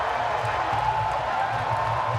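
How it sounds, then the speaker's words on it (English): A boxing arena crowd applauds Johann Duhaupas after his heavyweight bout with Deontay Wilder, a steady, distant wash of clapping and crowd murmur. "The crowd applauding that game effort of Johann Duhaupas."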